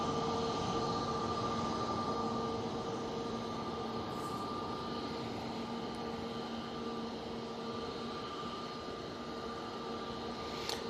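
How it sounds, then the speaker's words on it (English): An Airbus A330-300 arriving from JFK approaches to land at Manchester Airport, a steady distant engine roar with a sustained whine across the whole stretch, no voices. "A330-300 coming in from JFK"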